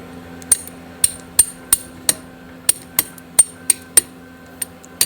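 A boat propeller lock nut is struck about a dozen times with the back of a tool, each sharp metallic tap ringing briefly, spaced irregularly a fraction of a second apart with quiet between.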